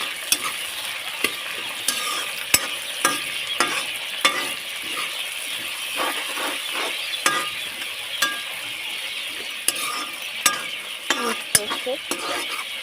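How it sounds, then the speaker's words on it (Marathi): Tomatoes fry in a pan with a constant sizzle as they are stirred and flipped. Repeated sharp utensil clicks and scrapes against the pan sound close by, with no speech. "आता टमाटर टाकून घेतले त्याला पलटून घेते"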